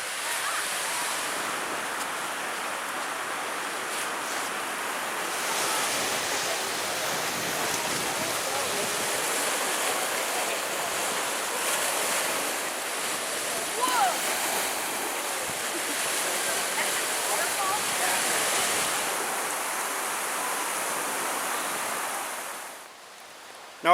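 Waves wash onto the beach at Pictured Rocks near the Chapel Loop, a continuous, fairly faint surf hiss that rises and falls gently, with no voices.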